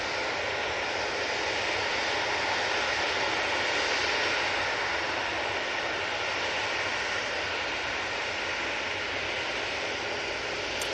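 An airliner inbound from JFK arrives at Manchester Airport, its engines a steady, loud broadband roar that holds through the whole stretch with no talk over it.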